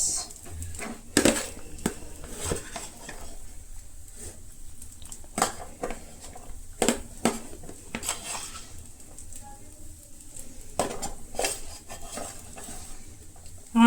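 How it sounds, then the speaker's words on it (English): Egg fried rice with garlic stirred and mixed in a pan over medium heat: a metal utensil scraping and clanking against the pan at irregular intervals over a soft sizzle. "I'm taking this time and mix all the ingredients."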